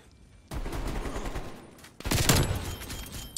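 Gunfire in the video game Call of Duty Cold War during a Search and Destroy match, with loud rapid shot bursts at close range, then a sharper, louder burst.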